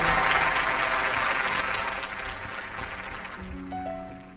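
A church congregation gives enthusiastic applause after a healing testimony, loud dense clapping that fades over a few seconds as a musical keyboard tone enters near the end.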